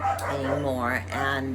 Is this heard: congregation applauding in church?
no